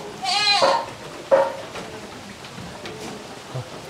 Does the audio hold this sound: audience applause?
no